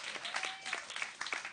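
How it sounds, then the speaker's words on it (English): Scattered clapping from a town hall audience thanking donors, with individual claps popping out of a light, uneven patter over a short stretch. "You can clap for them"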